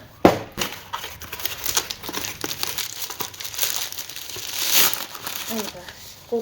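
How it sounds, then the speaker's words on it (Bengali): Plastic and paper packaging holding ghee and nolen and patali jaggery from Kolkata is torn open by hand, with close, uneven crinkling, rustling and crackling bursts and a voice speaking at times. "প্যাকেজিং তো তোমরা দেখতেই পাচ্ছ তোমাদের সামনেই খুলছি"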